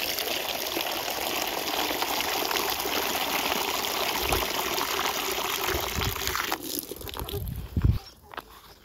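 Water is poured out for chickens as a steady, fairly loud gushing stream that stops abruptly after several seconds, followed by a few soft thumps.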